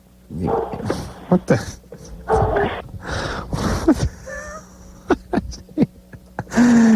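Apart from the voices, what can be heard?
dog barking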